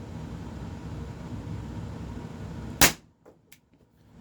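A TR50 gun firing rubber balls gives one sharp, loud crack after a stretch of steady background hiss, followed by a couple of faint clicks as it falls quiet.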